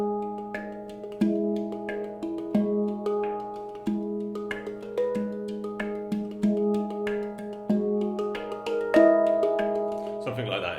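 A handpan played percussively with the knuckles, a steady rhythmic run of sharp knocked strikes with ringing tones under them and a brighter accent near the end, close and clear, with no talking.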